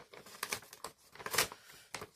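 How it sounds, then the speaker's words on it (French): A small paper envelope is torn open by hand with a series of sharp, close crinkles and rips in quick irregular bursts, fairly quiet, with short pauses between the tears. "Je vais ouvrir ma petite enveloppe."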